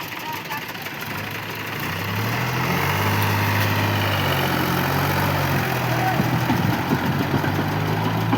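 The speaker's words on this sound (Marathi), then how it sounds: "हे 2 ट्रॅक्टर रेडी जायसाठी." A tractor engine idling nearby, a low steady chugging drone that grows louder after the first couple of seconds and holds, with a faint knock of machinery over it.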